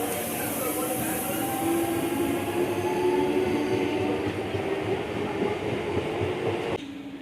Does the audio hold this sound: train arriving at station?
yes